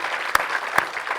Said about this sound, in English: A round of applause, okay?